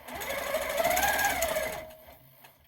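A sewing machine runs steadily as it stitches a quilt guided along a circular ruler. The motor hums alone and loud for nearly two seconds, then stops and leaves quiet room sound.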